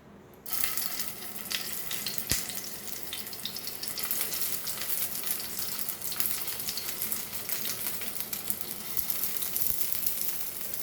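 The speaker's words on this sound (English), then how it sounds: "So let's fry this now." Stuffed snake gourd (padwal) frying in a pan over medium flame, a steady close sizzle and crackle of hot oil that runs evenly throughout, with one sharp click partway in; no talking.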